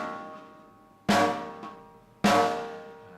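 Two loud snare drum hits, each striking the drumhead and the metal rim together, ring out alone about a second apart with a bright crack and a lingering decay.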